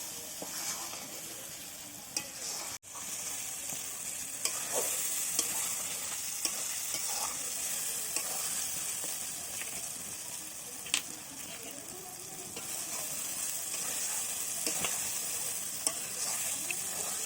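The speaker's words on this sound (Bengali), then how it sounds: "তো এরপর টমেটো দিয়ে ওটাকে ভালো করে নাড়াচাড়া করা হচ্ছে।" Mutton curry with tomatoes fries in a pan in a village kitchen, giving a steady close sizzle with frequent scraping and tapping from stirring throughout.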